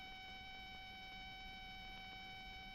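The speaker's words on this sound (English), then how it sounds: "When I'm on my direct route, I hear a long dash, like this in my earphone." One steady, unbroken electronic tone, an aircraft radio-range beam signal heard on course in earphones, hums on without pause, faint against a soft background hiss.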